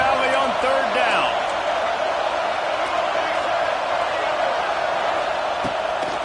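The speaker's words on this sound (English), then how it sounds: "Here comes the noise from this big crowd in Happy Valley on third down." Steady roar of a large stadium crowd in Happy Valley on third down during a Penn State versus Utah college football video game, loud and continuous throughout with a few brief calls or whistles layered on top.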